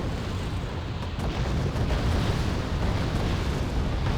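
Artillery explosions in the Wargame: Airland Battle video game form a dense, continuous rumbling roar of blasts and booms that stays loud for the whole stretch, with no talking.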